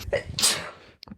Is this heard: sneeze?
yes